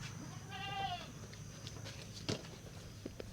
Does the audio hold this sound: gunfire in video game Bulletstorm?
no